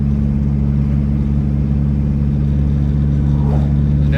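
Big-turbo Dodge Neon SRT4 at wide open throttle, a loud, steady engine roar with strong low harmonics that barely changes over a few seconds, heard from close by.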